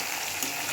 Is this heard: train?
no